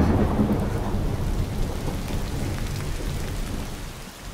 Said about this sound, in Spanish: ahora empezaría a llover torrencialmente